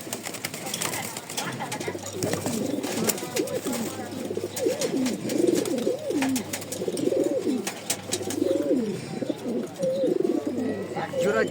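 Racing pigeons coo repeatedly in soft, rolling bursts, close by, with faint chirps and rustling in the background.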